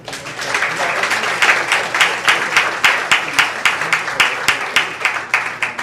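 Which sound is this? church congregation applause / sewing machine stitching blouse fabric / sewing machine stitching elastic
church congregation applause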